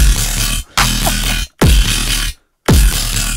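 A Serum synth dubstep drop with heavily boosted highs blares in four loud, harsh, gritty bursts, each cut off by brief silent gaps, with booming low hits at the start of several phrases.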